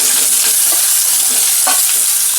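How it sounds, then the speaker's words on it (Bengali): Potatoes land in a hot pan and are stirred, a loud, dense, close sizzle with scraping stir sounds throughout, no talking. "এরপর আমি আলুটা দিয়ে দিচ্ছি"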